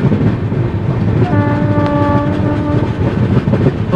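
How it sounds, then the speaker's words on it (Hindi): The Prayagraj Duronto Express rushes past at high speed with a steady roar of wheels and rail noise, its horn sounding a sustained tonal blast midway through. "दोस्तों प्रयागराज दुरंतो के साथ हमारी क्रॉसिंग होने वाली है"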